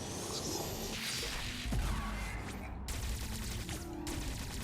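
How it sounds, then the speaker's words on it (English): A sci-fi cannon in a video game drawing energy into its back end: a loud, continuous whooshing suction with crashing, gunfire-like bursts and sweeping tones, dense and unbroken throughout. "it kind of like vacuums up energy from the back of the cannon"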